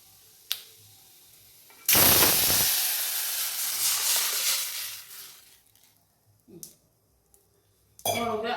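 Hot tempering for horse gram rasam erupts into a loud, close sizzle as the liquid rasam is poured in, then hisses for several seconds and fades. Metal utensils clink before and after.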